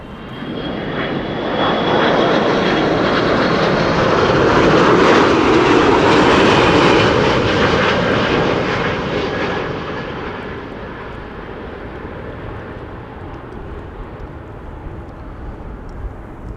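A jet airplane arriving on runway 06 at Amsterdam Schiphol roars past nearby in windy conditions, the broad engine rumble swelling to a peak and then fading gradually into a softer distant hum.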